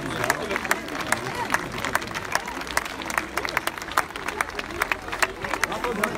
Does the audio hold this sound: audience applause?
yes